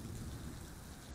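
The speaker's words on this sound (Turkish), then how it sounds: "Gök gürültülü." Steady rain hissing and pattering throughout, with a deep low rumble underneath that suggests distant thunder.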